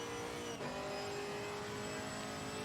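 Chevrolet Camaro GT4 race car in Assetto Corsa Competizione, the engine held high near the red line with a steady buzzing drone, a brief dip around a gear change, then continued hard revving.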